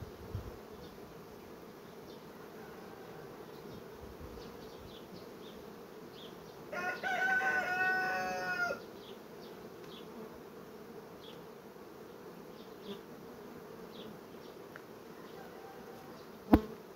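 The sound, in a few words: honey bees buzzing around an opened hive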